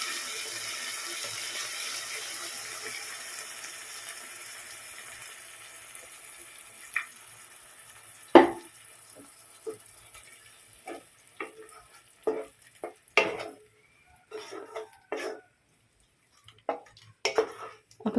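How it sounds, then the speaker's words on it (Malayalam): Coconut milk pours into a simmering okra curry in a steady liquid stream that fades over about seven seconds, followed by scattered clinks and stirring taps of a utensil against the pot. "നമുക്കിനി ഇതിലേക്ക് തേങ്ങാപ്പാൽ ചേർക്കാം."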